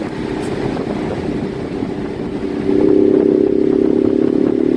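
A 2020 Ford Mustang 55th Anniversary Edition with the 2.3L engine, in track mode, drones steadily up close, then its engine note steps up louder and more insistent partway through as it revs, with no talking.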